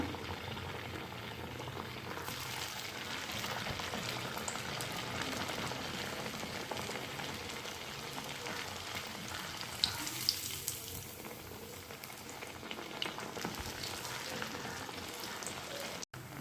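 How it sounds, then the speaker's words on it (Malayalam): Semolina and jaggery sweets frying in hot oil make a dense, continuous sizzling and bubbling hiss that holds steady and close throughout, with a few faint clinks and a louder knock at the very end. "ഇനി നമുക്കിത് എണ്ണയിലിട്ട് വറുത്ത് വരണം നമ്മൾ എണ്ണ തിളക്കാൻ വെച്ചിട്ടുണ്ട്"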